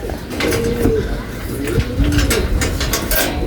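Pigeons in a new loft coo softly and repeatedly amid a busy background of rustling and low chatter, with several birds calling over one another.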